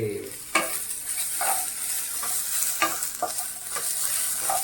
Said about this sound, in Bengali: এখন আমি দিয়ে দেবো চিকেনটা দিয়ে দেওয়া হচ্ছে।